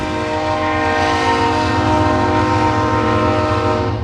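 A train rumbles past close by, its loud horn blaring steadily throughout.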